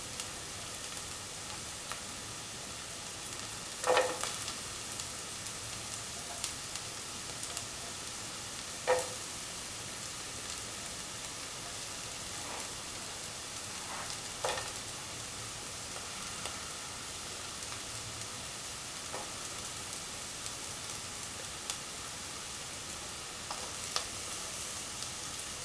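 Big onions sliced into small pieces frying in a pan for spinach rice, a soft, even sizzle throughout with a few faint clinks of stirring and no talking.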